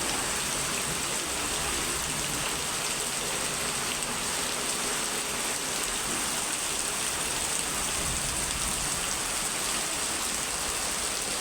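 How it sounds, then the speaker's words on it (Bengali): Heavy rain pours down steadily during a stormy afternoon, a dense, continuous broadband hiss of water striking surfaces, loud and unbroken throughout with no voices. "দেখুন কত জোরে বৃষ্টি হচ্ছে"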